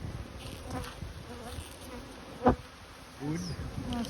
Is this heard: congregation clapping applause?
no